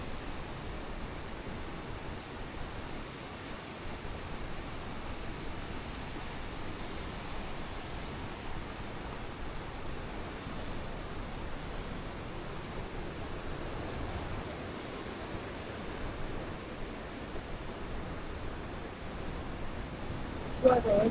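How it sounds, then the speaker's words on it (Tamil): Seaside waterfall in South Korea spilling into the ocean amid waves: a steady, fairly soft rushing wash that holds constant, ending with a brief louder bump. "வாட்டர் ஃபால் அப்படியே வந்து கடலை கலக்குது"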